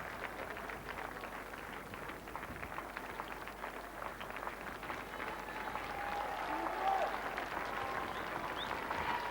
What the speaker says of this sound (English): Applause from the balcony.